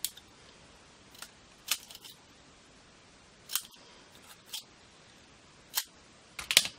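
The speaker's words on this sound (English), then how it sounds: "just need to cut those corners off." Scissors snip the corners off tiny paper tickets for collage cards, with short crisp cuts coming singly and in small clusters, separated by quiet pauses, close and fairly soft.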